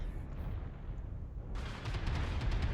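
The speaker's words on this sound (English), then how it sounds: "See the slow velocity on the AC-20 bullet." An AC-20 autocannon fires in the video game MechWarrior Online, a heavy booming blast that rumbles continuously and swells louder midway through, with low, dense explosive energy throughout.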